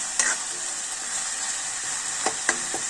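Onion paste fries in a pan for chicken rezala with a steady bright sizzle, broken by a few sharp scrapes and clinks of a spoon stirring.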